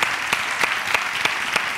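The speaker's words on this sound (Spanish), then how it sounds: "fuerte el aplauso para Jorge" A live audience at a comedy interview event bursts into brisk applause, many hands clapping close together with a few sharper, louder claps standing out at regular intervals.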